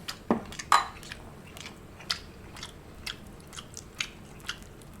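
Someone eats Vietnamese lobster tail dipped in butter, with a few close, soft wet bites and chewing sounds at irregular intervals over a quiet room.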